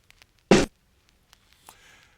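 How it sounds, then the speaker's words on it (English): Layered snare drum samples in FL Studio, including a dirt snare from a drum kit, hitting once as a single short, bright crack, followed by faint ticks and a soft trailing tail. "Of course, I brought in my own snare, which sounds like this"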